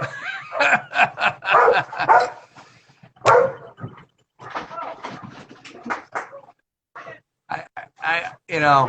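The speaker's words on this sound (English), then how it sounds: "we have crazy dogs jumping around. Yep, barking dogs, my favorite." Several excitable dogs bark and yip in bursts during a live wine-tasting at home, the barks mixed in with steady conversation.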